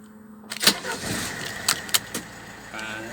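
A Phoenix vehicle starts up: a click and jangle, then an engine or motor catches and runs with a few sharp clicks and a rising whine, heard close.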